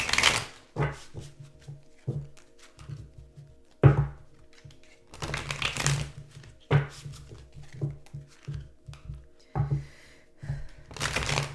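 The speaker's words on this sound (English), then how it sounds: "let's get the tarot cards on top of these and see what's going on for Aries. We'll do 3 shuffles." Tarot cards riffle and snap in several bursts of shuffling, with soft thumps and crinkles between them, close to the listener and without speech.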